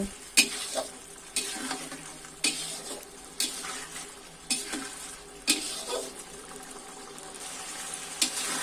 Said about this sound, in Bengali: মাছগুলো মশলার সঙ্গে কষিয়ে নিব।